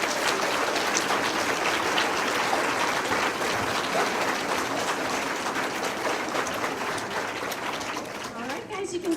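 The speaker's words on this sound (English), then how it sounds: "Please give these students a round of applause." Families and guests at a Walker Elementary fifth grade graduation give the graduating students a long round of applause, dense and sustained clapping that fills the room and softens a little near the end.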